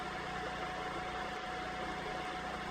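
A Champion 27-ton log splitter's engine drones steadily at close range while it splits tough oak, a dense, even mechanical hum that holds without a break.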